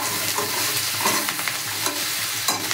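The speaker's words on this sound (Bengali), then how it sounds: "দিয়ে দিলাম ক্যাপসিকাম কুচি দিয়ে এবার নাড়াচাড়া করবো" Chopped capsicum and onions frying in a pan while being stirred, a loud close sizzle with busy scraping and clinks of the spoon throughout, no talk.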